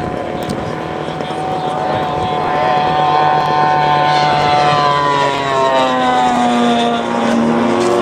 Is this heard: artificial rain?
no